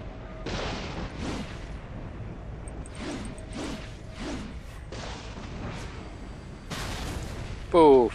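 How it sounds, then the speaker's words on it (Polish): Explosions and impacts in the action video game Metal Gear Rising: Revengeance, a series of sharp booming bursts at irregular intervals with a whooshing blast near the end, under someone talking. "Puf, i wybuch nam wystrzelił."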